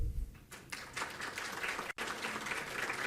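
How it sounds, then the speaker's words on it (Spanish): Audience applause at an academic conference, a dense, continuous round of clapping from a crowd that holds steady throughout, with a brief dip partway through. "Por favor, un aplauso."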